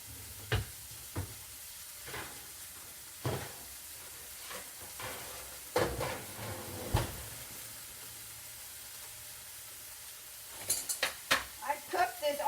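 Onions and peppers cooking in a pan for a cauliflower pizza, with soft stirring scrapes and clinks of a utensil against the pan over a low hiss, a cluster of quick taps near the end.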